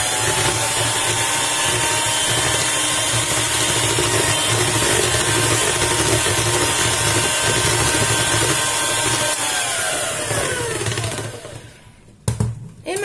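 An electric mixer whisks one-egg cloud cake batter at a very low speed as oil is added slowly. It gives a loud, steady motor whine with a slight pitch drop near the end before it stops and is handled.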